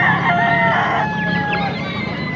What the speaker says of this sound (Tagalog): ayan, oh, may sisiw dito